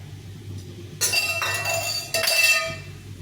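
Spice paste being mixed with salt and turmeric in a bowl, a spoon clinking and ringing against the bowl in two bright bursts over a low steady hum.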